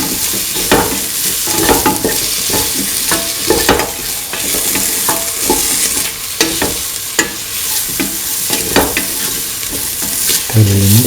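Tofu rice with garam masala stirred in a hot pan: steady scraping spatula strokes over a continuous close sizzle of frying, loud and busy throughout with no talking.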